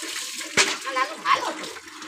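A street dog being bathed, with water splashing in two quick bursts, the first sharp and the second longer, set against a steady background of other sounds.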